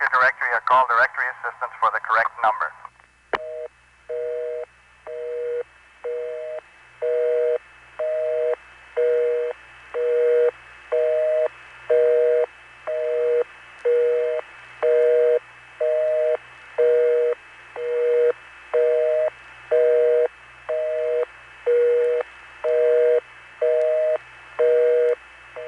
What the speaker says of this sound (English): You can hear an obvious beating effect on the busy signal.